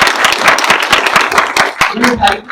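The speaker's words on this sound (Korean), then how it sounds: "감독님께 박수 부탁드립니다." Audience clapping for a film director at a post-screening talk held during a Korean independent film festival, with scattered individual claps that come close and fairly loud and run under continuous talk.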